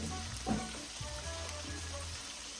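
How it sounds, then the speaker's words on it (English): Chicken sizzles and crackles steadily in grapeseed oil in a pan, a continuous hiss with a few soft pops and clatters, fairly quiet and without talking. "so now I'm gonna add the chicken right in here"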